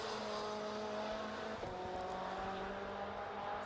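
A race car at speed around Oulton Park circuit, a faint, steady engine drone heard from a distance with a held tone that shifts briefly midway.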